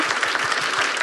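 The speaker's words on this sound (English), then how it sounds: "I think that's worth a special round of applause" An audience at a literary event applauds for an author, a dense, steady clatter of many hands clapping at once, loud and continuous for the whole moment.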